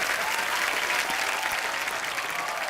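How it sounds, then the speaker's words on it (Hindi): A studio audience on The Kapil Sharma Show bursts into dense, steady applause, a loud continuous wash of clapping hands that holds evenly throughout with no pauses. "जोरदार तालियां।"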